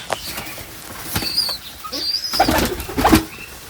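Healthy pet pigeons in a coop coo in a few short, close throaty calls, alongside light shuffling and pattering.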